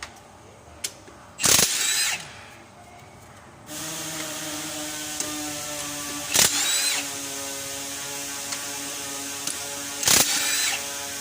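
A socket wrench ratchets on worn clutch bolts while a Reynolds Boughton RB44's flywheel, clutch and gearbox are fitted. Three short bursts of clicking stand out over a steady background hum.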